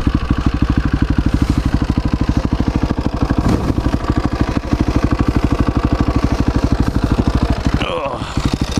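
A KTM 520 motorcycle engine runs close by with a fast, even thumping idle and a brief rev blip toward the end; a voice is heard over it.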